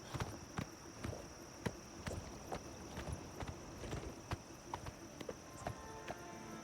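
Horse hooves clip-clop steadily in Elder Scrolls IV: Oblivion Remastered, a regular walking rhythm of close, distinct hoofbeats over a constant ambient bed on a foggy afternoon.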